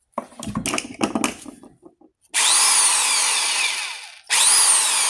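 An old Harbor Freight industrial power tool whirs up loudly after some handling noises, runs steadily for a couple of seconds, cuts out briefly, then starts again.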